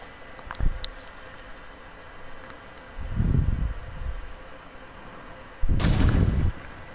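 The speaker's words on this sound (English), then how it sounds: "I see you because I'm shooting at you." Bursts of gunfire from a first-person shooter video game, three distinct rattling volleys of varying length with quiet stretches between them, fairly close and loud with no voice over them.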